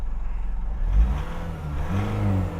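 A Mitsubishi Outlander 2.2 DiD diesel with a sticking EGR valve revs up briefly and settles back to idle. The engine hum is close and moderately loud, and it swells twice.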